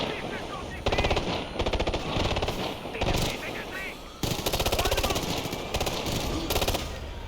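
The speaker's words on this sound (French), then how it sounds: "Il tire n'importe comment en l'air." Automatic gunfire fired wildly into the air in the video game Tom Clancy's Ghost Recon Future Soldier, sustained rapid bursts with short breaks between them, loud and dense over constant in-game background noise.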